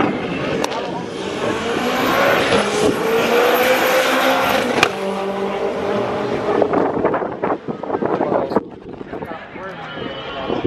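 A Honda Civic hatchback drag racing down a quarter mile, its engine roaring and rising in pitch through the run with heavy wind noise, then fading as voices talk over it.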